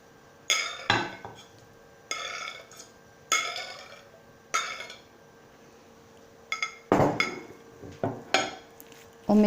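Fork-mashed sardines being mixed into softened butter in a bowl, heard as bursts of close scraping and clinking of a fork against the dish, separated by short pauses.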